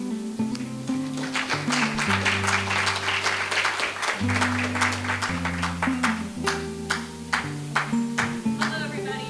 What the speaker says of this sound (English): They learned you got to keep clapping till the person gets to the